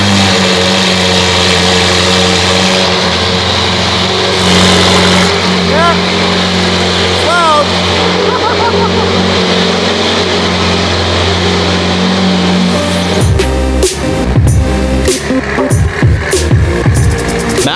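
Loud 48 winter beater car cold-starting after a steady idle-like drone, the engine catching around the end and revving in harsh bursts, with voices talking over parts of it.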